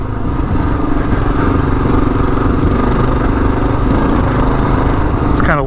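A Kawasaki KLR motorcycle lugs along desert dirt roads in third and fourth gear, its engine a loud, steady, close drone with a rough, pulsing low rumble that continues without a break.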